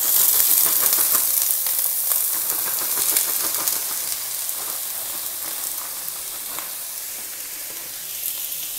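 Tri-colour bell pepper strips sizzle and crackle in a hot frying pan, a steady dense hiss with scattered pops close up, gradually settling slightly quieter, with no voices.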